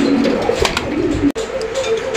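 A pair of Sirazi fancy pigeons coo at close range in a pigeon market. Their low, throaty, rolling calls repeat through the short stretch, with no talk.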